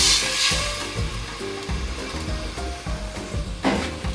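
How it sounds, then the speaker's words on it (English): Steady loud sizzling and frying as ragu sauce is poured into a hot pan, a continuous crackling hiss with scraping and clinking underneath. "this is going to make a nice big loud splash and sizzle"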